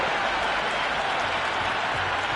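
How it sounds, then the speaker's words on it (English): Sustained applause from a large stadium crowd in the Cricket 26 video game, a dense steady roar of clapping filling the whole stretch with no pauses. "It's the most enthusiastic crowd you could ever see right now."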